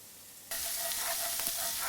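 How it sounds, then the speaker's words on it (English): Minced garlic, four to five finely chopped cloves, hits hot virgin olive oil in a skillet, jumping from a quiet hiss to a loud, steady crackling sizzle with scattered pops that continues alone. "To that I add 4 to 5 cloves of garlic, finely minced, just to sizzle away."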